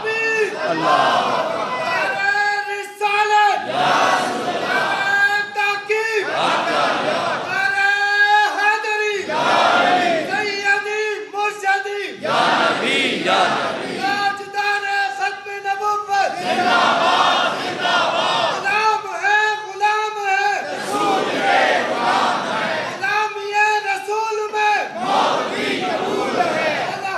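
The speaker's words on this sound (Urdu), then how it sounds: "نعرے لگاتے رہنا، کام ہی نعرے لگانا ہے۔" A crowd at a religious gathering in Karachi chants slogans in loud, rhythmic, repeated bursts separated by short pauses, many voices together.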